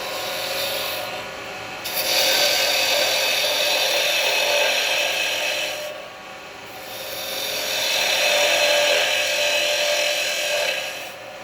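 Carbide chisel cutting a small wooden vase on a wood lathe, a steady rasping scrape that swells and fades in long passes, near and loud with no talk.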